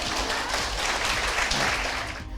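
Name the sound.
audience applause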